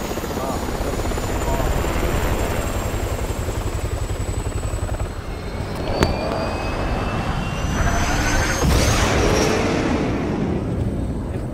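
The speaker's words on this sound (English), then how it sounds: "now we're going to the helicopter." Helicopter in the video game Resident Evil 6, a loud continuous rotor thrum with engine whine and a few sharp game effects layered over it, with a person talking over it.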